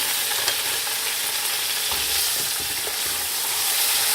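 Garlic ginger paste and green chilli paste frying with onion for rice pulao, a loud, dense, continuous sizzle with light stirring scrapes close to the pan, no talking.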